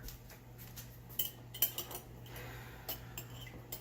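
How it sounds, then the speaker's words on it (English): A metal spoon being rinsed in a kitchen sink, with light scattered clinks and taps of cutlery over faint running water and a low steady hum, fairly quiet and close. "Let me wash that graham cracker off this spoon."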